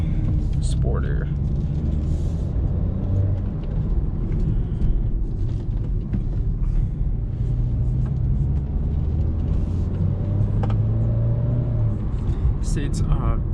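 Jaguar XE Prestige engine and exhaust while driving, a steady low rumble and road drone filling the cabin throughout, with faint occasional higher noises from outside and no clear talking.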